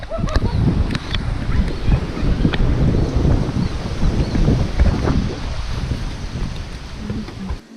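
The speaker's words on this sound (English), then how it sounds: "it is now pouring rain outside" Steady, dense wash of heavy rain and gusting wind, loud and close throughout, with a few faint voices buried underneath.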